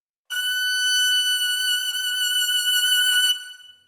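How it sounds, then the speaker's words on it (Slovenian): A single high violin note is held for about three seconds with gentle vibrato, then fades quickly in isolation. "Ja, to je bil zvok violine."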